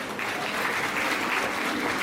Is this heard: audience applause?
yes